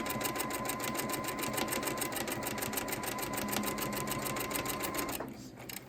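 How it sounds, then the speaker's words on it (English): A sewing machine runs continuously, stitching a skinny strip on a quilt block with a quarter-inch foot, its rapid even needle rhythm close and steady until it stops near the end. "And sew all the way to the end."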